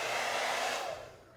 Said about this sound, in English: I'm going to use my blow dryer to dry this hairspray down.